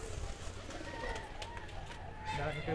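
Pigeons coo softly in a loft, low murmuring calls half buried under a loud, steady background of chatter and noise.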